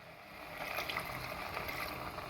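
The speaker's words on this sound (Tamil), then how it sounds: "இந்த டைமில் 1 டம்ளர் அளவுக்கு தண்ணி சேர்த்துக்கலாம்" Water from a tumbler poured into chicken cooking in oil in a cooker, a steady broadband splashing and sizzling wash that builds slightly and holds, close and moderately loud with no voices.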